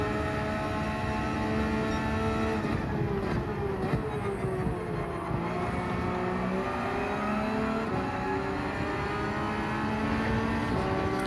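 A Porsche 992 GT3 R race car engine in Gran Turismo 7 howls loud and close throughout, its pitch climbing and dropping through gear changes with a steady, rich harmonic roar.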